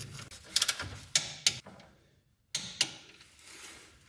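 Torque wrench tightening sway bar bolts on a Mk7 MQB GTI, a series of sharp metallic clicks and ratcheting ticks in short bursts, with a quiet pause in the middle.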